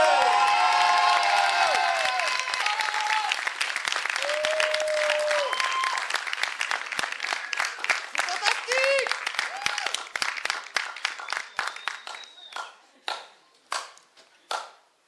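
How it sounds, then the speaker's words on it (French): A crowd applauds loudly with scattered cheers and whistles, the clapping thinning out to a few last slow claps. "Donc si vous voulez un bon round, il faut mettre beaucoup d'applaudissements."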